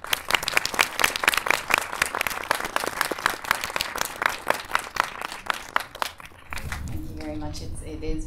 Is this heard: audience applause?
yes